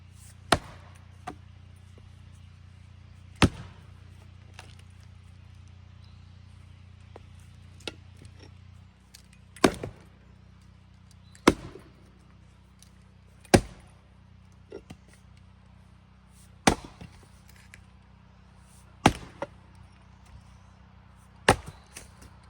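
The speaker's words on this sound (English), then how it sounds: "This is an amazing little axe, but if you don't know how to split wood" Sharp, isolated axe strikes splitting wood rounds with a small axe, about a dozen loud cracks spaced irregularly a second or two apart over a quiet outdoor background.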